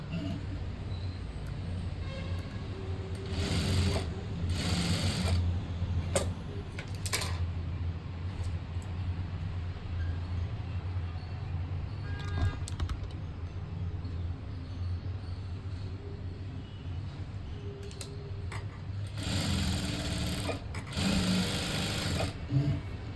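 A sewing machine stitches a blouse in several quick bursts of fast, rattling mechanical clatter, separated by quieter pauses with soft handling noises and faint talk.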